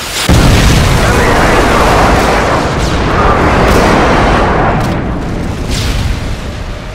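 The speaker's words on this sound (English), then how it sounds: "Friendly predator missile inbound." A video game predator missile strike booms out in a loud, sustained rumbling explosion, with a heavy blast and rolling debris roar that fades slightly toward the end.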